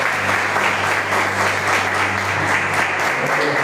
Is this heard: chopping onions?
no